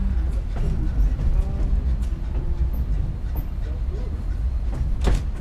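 Cumbres & Toltec railroad cars roll along with a steady rumbling clatter and occasional creaks and knocks, heard from inside the train beneath people talking.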